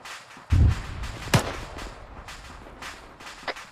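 Gunfire in the ArmA 3 military game: a few sharp shots ring out, one heavy boom early on, then scattered quieter cracks over a rumbling background.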